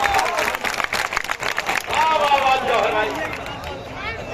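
A crowd at a mushaira poetry gathering in Lucknow claps and applauds in a dense, ongoing burst, with voices and cheering mixed in.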